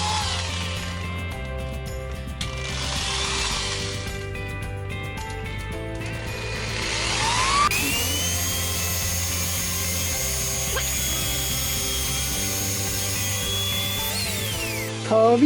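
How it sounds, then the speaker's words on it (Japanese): A high-pitched whining electric drill runs continuously at low speed, polishing a motorcycle crankcase cover, its tone shifting as it grinds against the metal, loud and close. "ちょっと持ちにくいんだけどもね、ドリルで頑張ります。 回転を遅くして、"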